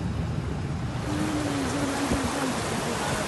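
Floodwater rushes through Wadi Abu Nar in a steady, dense roar. A faint tonal hum briefly rides over the torrent.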